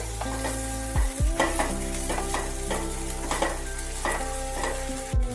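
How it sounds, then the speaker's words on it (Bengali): Fried okra stirred with spice masala in a pan, with a close steady sizzle, a low background hum and several scraping, clattering stirs of a spoon against the pan. "ভালোভাবে একটু নাড়াচাড়া করতে হবে।"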